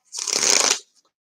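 A single quick riffle of a card deck, a crisp fluttering burst lasting under a second, close by and alone.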